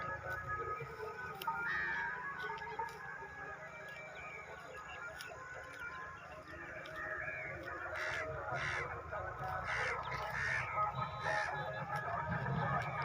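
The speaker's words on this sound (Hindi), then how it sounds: "कौवा बहुत समझदार प्राणी होता है।" Crows caw repeatedly from a short distance among other bird calls and general outdoor background noise.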